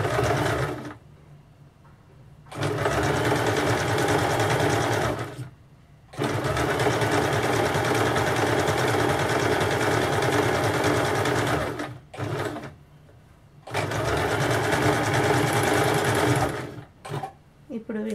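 A sewing machine stitches blouse pieces in several long, steady runs of motor whirring, with short pauses between bursts as the fabric is turned; a voice speaks quietly at times.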